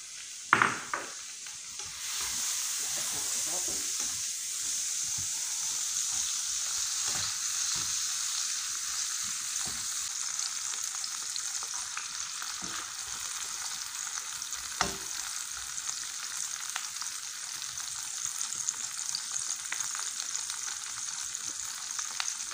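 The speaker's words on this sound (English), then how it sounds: "So we're gonna add our sweet pepper, our green sweet pepper with a little red on it, and our onion." Green and red sweet peppers with onion fry in margarine and oil, giving a steady, even sizzle throughout, with occasional soft stirring clicks and no talking.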